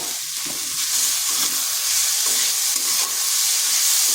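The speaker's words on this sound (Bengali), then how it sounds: "আলুটাকে একটু ভাজা ভাজা করে নিচ্ছি" Grated raw potato frying and being stirred in a pan over medium heat for a flattened-rice snack, giving a steady hiss of sizzling oil with soft scraping strokes throughout, close and fairly loud with no talk.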